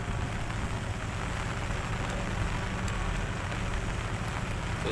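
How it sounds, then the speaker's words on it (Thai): Heavy rain pours down steadily over an open rural field, a dense, even hiss that stays loud and unbroken throughout, with no voices. "ฝนตกหนักแล้วครับ"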